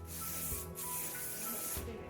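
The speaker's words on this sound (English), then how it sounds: "And then I would just spray that section first." Hairspray hisses onto a section of hair in a steady continuous spray lasting about two seconds, close by, with a short break partway through and low background hum.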